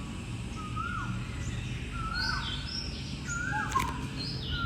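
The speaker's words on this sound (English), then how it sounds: "The songs of the birds were the only things that broke the zen-like silence of the camp" Several birds call in a Thai jungle canopy, rising and falling whistled chirps repeating one after another at moderate distance over a steady, faint background hiss of insects and forest ambience.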